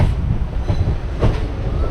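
A passenger train arriving at Chennai station: rumbling noise with low-frequency rail clatter and a couple of brief metallic bursts, close and steady, no talking.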